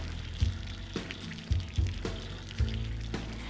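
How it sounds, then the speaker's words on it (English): Water gushes unevenly from a pressure washer hose as trapped air purges, a steady rushing flow broken by repeated sputtering bursts and thumps at irregular intervals, close and fairly loud with no voices. "Just hold it until you have a nice steady flow of water."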